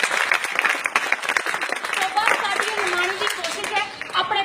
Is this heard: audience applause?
yes